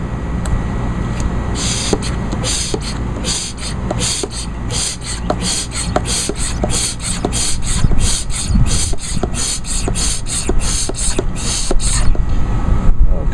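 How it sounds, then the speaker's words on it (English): A Liquivac fluid extractor, used to drain oil from a Honda lawnmower, is pumped by hand in steady, evenly spaced strokes. Each stroke gives a close, raspy rubbing squeak, and the rhythm repeats for the whole stretch. "let's get the Liquivac all pumped up"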